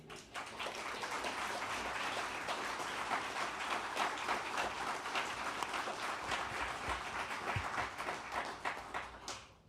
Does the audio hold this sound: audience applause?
yes